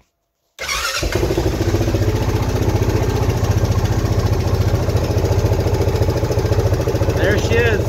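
A 2006 Honda Foreman Rubicon ATV engine cranks and catches on choke after valve adjustment, then settles into a loud, rapid, even idle putter close by, with a brief voice near the end.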